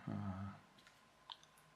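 A low hum fades out, then a few faint, light mechanical clicks from a toy tractor's flywheel slip clutch sound at irregular moments in a quiet room.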